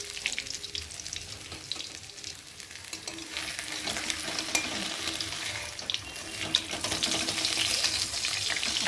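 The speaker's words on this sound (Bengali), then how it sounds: "এখন কড়াতে তেল দিয়েছি, তেলটা গরম হচ্ছে, আর একে একে মাছগুলোকে দিয়ে।" Pieces of fish fry in hot oil in a kadai, producing a continuous close crackling sizzle that swells louder over several seconds, with occasional sharper pops.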